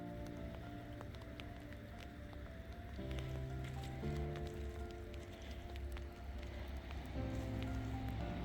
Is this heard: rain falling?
yes